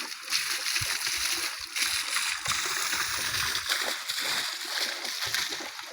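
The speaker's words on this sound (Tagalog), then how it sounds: "To tubig papunta sa swimming pool." Spring water from the mountain splashes and rushes steadily toward a resort swimming pool, a close, continuous gushing with sloshing surges and no talk.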